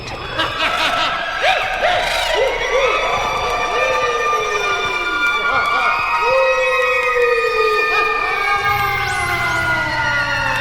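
Eerie, wavering high-pitched shrieks and wails overlap continuously, rising and falling like a chorus of ghostly voices, loud and sustained throughout.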